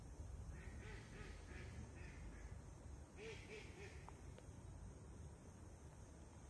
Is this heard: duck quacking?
yes